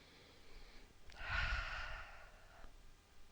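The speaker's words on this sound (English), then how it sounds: "Breathing." During an outdoor yoga exercise by a reservoir, a single slow, audible breath is drawn and released close to the mic, a soft airy exhale lasting over a second against quiet surroundings.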